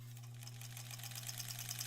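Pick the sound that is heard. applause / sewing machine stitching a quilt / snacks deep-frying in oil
sewing machine stitching a quilt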